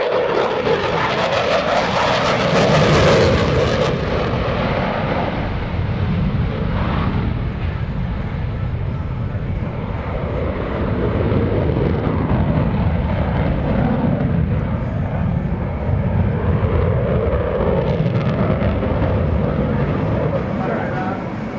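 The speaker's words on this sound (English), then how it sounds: "Now reduce the throttles to idle power and roll the aircraft inverted." A US Navy F/A-18F Super Hornet jet flies a demonstration at the 2017 NAS Oceana airshow, its engine roar loud and continuous, swelling and easing. An announcer talks over it.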